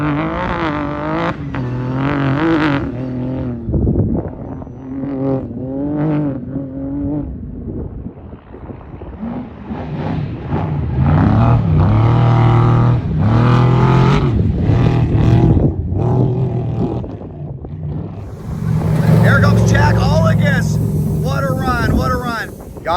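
Race cars run along pit road at a Vegas to Reno off-road race, engines rising and fading in several passes, loud and close, with a commentator talking over much of it.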